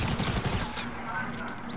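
Rapid burst of egg launcher fire in Fortnite, a quick run of loud close shots with a thumping rhythm, followed by a lingering tail.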